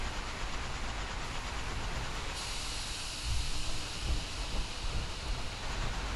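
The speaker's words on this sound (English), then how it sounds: "so I'm just generating steam here" Steam-powered train power armor in a Fallout 4 mod gives off a steady, loud, broadband steam hiss and rumble, continuous throughout with a slight surge near the end.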